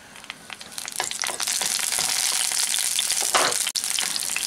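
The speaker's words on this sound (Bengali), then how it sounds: "তেলের মধ্যে দিয়ে দিলাম কাঁচা লঙ্কা চেরা" Slit green chillies hit hot mustard oil in a kadai and sizzle loudly and steadily, building from a few crackles into a continuous close fry.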